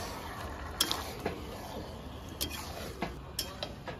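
A spoon scrapes and clinks against a pot while desi chicken kosha with potatoes is slowly stirred, giving soft irregular knocks every half second or so over a quiet background.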